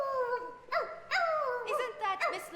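A dog barks and yips in short, pitched bursts during a high school stage production of Mary Poppins, four or five yelps spread across a couple of seconds at moderate loudness.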